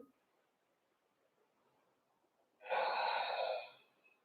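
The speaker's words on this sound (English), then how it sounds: "Deep breathing." Deep breath during a yoga forward fold: after quiet stillness, one loud, close, airy breath swells suddenly and lasts about a second before fading out, with no speech.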